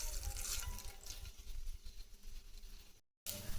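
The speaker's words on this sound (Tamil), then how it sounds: "கடுகு பொறிஞ்சிடுச்சுங்க" Mustard seeds crackle and splutter in hot oil in a pan while making a horse gram and potato kurma, a dense close frying noise with a brief gap near the end.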